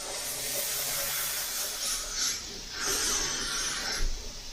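Spray gun laying a wet coat of silver PS 290 paint onto a 3M Versaflo helmet, a steady continuous airy hiss that swells and eases slightly as passes are made, close and fairly loud with no talking.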